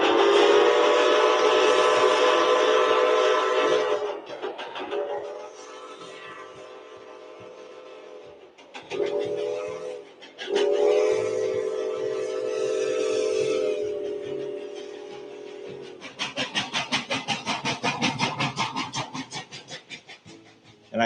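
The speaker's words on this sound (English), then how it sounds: "the steam whistle blows, there's a resonance across the valley" A steam locomotive's whistle sounds in long, loud blasts across a valley, with several pauses between them and a lingering echo, followed by a rapid chuffing rhythm.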